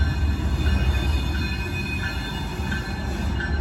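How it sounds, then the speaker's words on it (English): A locomotive-hauled train pulls out, giving a loud steady rumble of rolling wheels with faint high squeals and hums on top, continuous and close, with no talking. "this is the same type of locomotive Amtrak uses"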